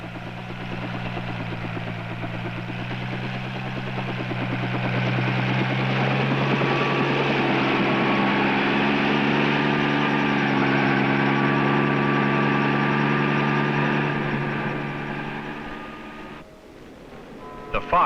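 A helicopter flies over a wildfire line with a steady, loud engine drone and rotor whine that swells slightly in the middle, then drops off abruptly near the end.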